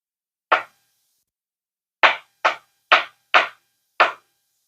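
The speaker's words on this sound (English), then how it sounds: "I'm just going to continue chopping up the eggs" A knife chops boiled eggs on a board in sharp, crisp knocks: one alone, then after a pause five more in a steady rhythm.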